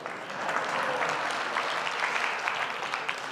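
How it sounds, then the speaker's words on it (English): A room full of listeners at a campaign-season talk give a steady round of applause, moderately loud and continuous for a few seconds with no talk over it. "That's okay, you can applaud."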